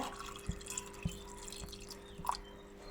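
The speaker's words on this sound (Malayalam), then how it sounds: "ഇതിലേക്ക് കുറച്ച് വെള്ളം ഒഴിക്കുക." Water trickles into a clay cooking pot holding chopped ash gourd, heard as faint, sparse drips and small splashes against a quiet background.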